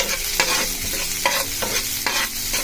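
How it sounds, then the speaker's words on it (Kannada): Garlic frying in a pan for mushroom pepper fry, a steady sizzle broken by regular scraping strokes of a spatula stirring about twice a second, close and clear. "ಇದಕ್ಕೆ ಬೆಳ್ಳುಳ್ಳಿ ಹಾಕೊಳ್ಳೋಣ, ಫ್ರೈ ಮಾಡ್ಕೊಳ್ಳೋಣ."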